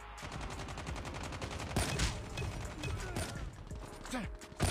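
Hip-fire gunshots in the mobile game Call of Duty Mobile rattle off as a fast, steady stream of automatic rounds, with a few heavier bangs mixed in, continuous and fairly loud against busy game audio.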